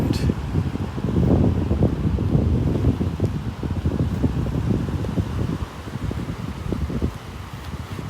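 Steady wind at a Gulf-coast beach, Delnor-Wiggins, during a morning walk, a loud continuous low rush and buffeting against the microphone with no talking.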